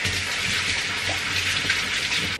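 Quinoa is rinsed under a running tap, a steady close rush of water that continues without a break before stopping abruptly.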